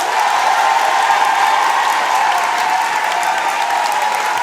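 An improv show audience claps together for several seconds to vote, giving steady, dense applause from a full room with no voices standing out.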